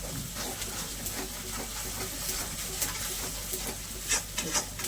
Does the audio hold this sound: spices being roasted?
yes